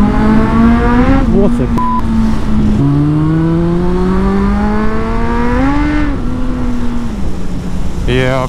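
Honda Hornet budget motorbike engine riding along, a steady loud hum that climbs and drops with throttle and gear changes, with a brief voice speaking over it.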